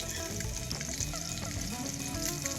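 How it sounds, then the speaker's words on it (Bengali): Rui fish frying in oil for a fish curry, a steady dense sizzle and crackle held at an even level throughout, close up with no voices. "ভেজে নিয়ে উঠিয়ে নেব মাছগুলোকে।"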